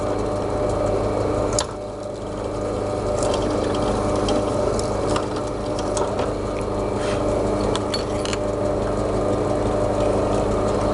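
Metal wind chime pipe being drilled through at a marked point gives a loud, steady mechanical whirring with a ratcheting, gear-like rattle and occasional sharp ticks, close and continuous without speech.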